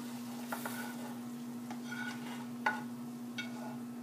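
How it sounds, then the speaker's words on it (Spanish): Vegetables and chicken sizzle in a small frying pan, a soft steady crackle with occasional sharp clinks and scrapes of stirring, alongside a constant low electrical hum. "En este caso yo voy a agregar los vegetales a la carne porque el sartén está muy pequeño y no me va a caber todo"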